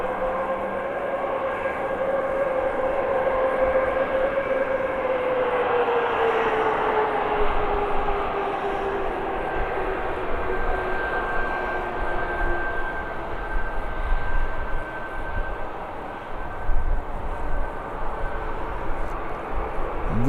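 A departing aircraft at Birmingham Airport roars loudly and continuously, its engine whine sliding downward in pitch as it passes and draws away, leaving a broad rumbling wash.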